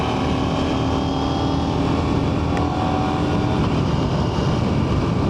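A 2024 KTM 990 Duke motorcycle accelerating hard, its engine roaring as a steady, loud, continuous drone mixed with wind rush, with no talking.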